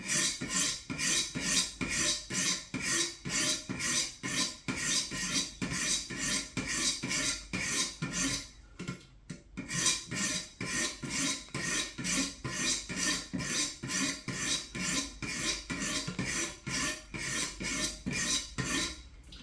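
A knife sharpened on the stones of a Wicked Edge 100 Pro Pack 1 sharpener, steady rhythmic rasping strokes repeated close up in a continuous run with one short pause partway through.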